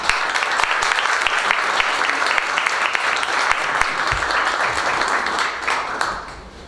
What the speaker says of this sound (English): So can we give a round of applause to Bob?